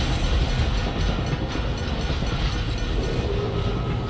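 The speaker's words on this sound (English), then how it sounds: "Is that like a tram?" In the video game Dishonored, a tram rumbles and clatters past on its rails as a steady, loud mechanical drone that lasts the whole moment, with no voices.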